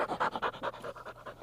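A bird dog panting rapidly on a training table, a close, rhythmic run of about a dozen quick breathy huffs.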